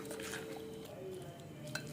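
Faint, soft mixing of bitter gourd pickle in a bowl, with a low steady background and a few light clinks and scrapes of a spoon, heard quietly up close.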